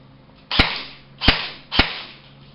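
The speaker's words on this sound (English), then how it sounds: "We'll put it on semi-automatic real quick." A JG M733 Commando airsoft gun fires three separate semi-automatic shots, sharp snapping cracks spaced unevenly over a couple of seconds, close and fairly loud against a quiet background.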